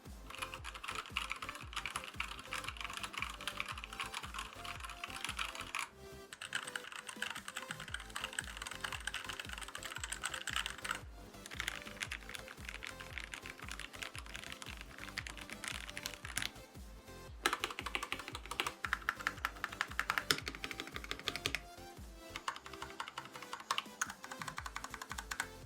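Typing on a wireless 60% mechanical keyboard with Gateron Pro Brown switches, PBT keycaps and an ABS Shift keycap produces a fast, continuous stream of close, soft clicks and clacks with brief pauses and no talking.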